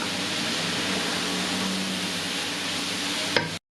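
Leek and minced meat cook in a pan with a dense, even sizzle and stirring scrape for a few seconds, then a short clatter and sudden silence.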